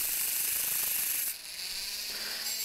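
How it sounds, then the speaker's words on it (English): A brass pen cap spins on a lathe while being polished with high-grit sandpaper, giving a continuous dense whirring hiss that dips briefly midway before resuming, steady and close. "I'm polishing up the cap just as I did with the body, and this is just establishing kind of an initial polish just on the lathe using some high grit sandpaper"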